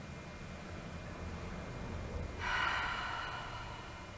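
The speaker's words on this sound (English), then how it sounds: "Inhale through the nose. Exhale through the mouth." A single deep breath during a yoga session: a soft airy inhale through the nose, followed by a broader, louder rushing exhale through the mouth, close and quiet, with no talking.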